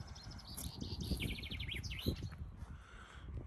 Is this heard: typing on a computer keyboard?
no